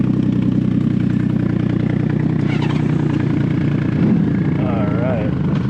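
Honda Valkyrie or Yamaha Maxim motorcycle engine starting and settling into a steady, loud, close idle with a throbbing low rumble, while a person talks briefly over it.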